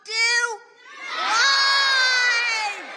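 A crowd cheers and shouts in a played news clip, a loud high-pitched burst of yelling, then a brief dip before a longer sustained swell of cheering that tapers off.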